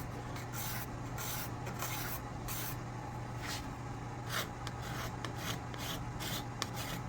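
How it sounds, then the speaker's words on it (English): A card scraper scrapes across the sole of a spokeshave being refitted with a new sole, a quiet, steady rasping in repeated strokes at close range, with no speech. "Here's a card scraper just to try to level this down."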